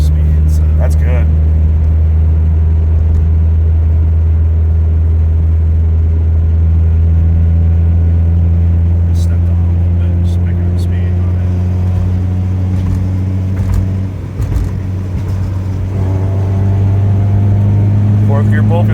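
A Toyota Tercel wagon with a swapped 4A 1.6L engine pulls in fourth gear, its steady droning engine note rising slightly as it picks up speed, loud and close from inside the car.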